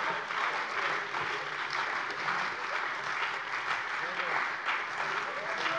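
Steady applause fills a German parliament plenary session, a dense even patter of many hands clapping throughout, with faint murmuring beneath.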